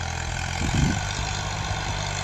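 A Ghazi tractor engine idles steadily in Punjab, Pakistan, a low continuous rumble with a brief swell in loudness near the middle, with no talk over it.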